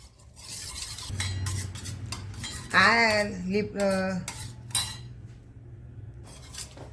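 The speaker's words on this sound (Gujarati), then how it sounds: "હવે એને થોડોક હલાવી અને ઠંડો કરી લેવાનો." Warm beetroot lip balm mixture with ghee is stirred in a small vessel, producing soft scrapes and light metallic clinks, with a brief squeaky ringing scrape in the middle before quieter stirring resumes.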